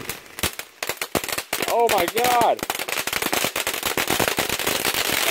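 A crackling firework fountain bursts into dense, rapid popping and sharp cracks, loud and close and continuing throughout, while a person exclaims briefly over the noise.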